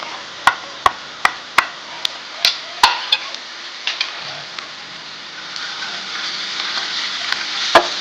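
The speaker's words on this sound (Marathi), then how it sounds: "ते छान तेलात द्यायचं मंद गॅसवर" Turmeric, coriander powder and garam masala fry in hot oil over a low flame, giving a steady close sizzle. A series of sharp clicks and taps from a utensil sounds early on, then the sizzle continues alone.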